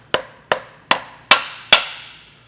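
A new axle seal on a Subaru STI being tapped into place during a clutch job, five sharp, evenly spaced close metallic knocks, each ringing briefly before the next, with no talk.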